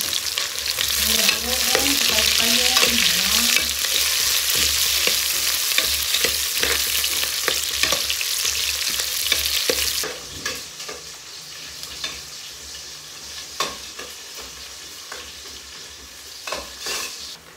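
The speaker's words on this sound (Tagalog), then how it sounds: "Brown ang konti yung bawang para natin mabango ang ating mga niluluto." Garlic browning in a hot pan, sizzling loudly and steadily while a utensil scrapes and stirs it close up, with the frying settling quieter partway through and no talk.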